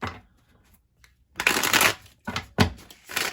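Tarot cards are shuffled by hand in close, crisp riffling bursts, one long flurry followed by several shorter snaps and rustles separated by brief pauses, with no talking.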